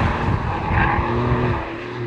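Porsche 992 Carrera 4S engine running hard on a race track, a loud sustained growl heard from inside the car that shifts pitch as revs rise, with no one talking.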